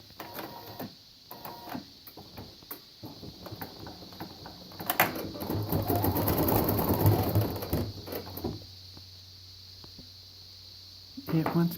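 An embroidery sewing machine stitches flower highlights, a mechanical whirring and rhythmic clatter that swells to a loud steady run in the middle, with a constant electronic hum and a person talking over parts of it.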